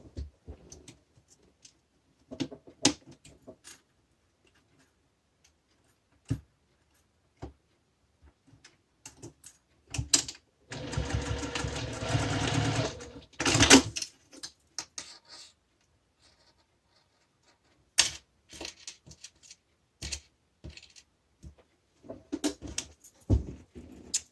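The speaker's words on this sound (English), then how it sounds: "So I sew just slightly above that mark that I made." A sewing machine stitching fabric for a hand sanitizer holder, running in one steady burst of about three seconds between scattered handling clicks and taps in a quiet room.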